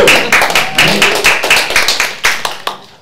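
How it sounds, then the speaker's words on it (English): A small audience at a workshop panel session claps in a quick burst of separate, close hand claps, thinning out toward the end with a few last scattered claps. "You can clap."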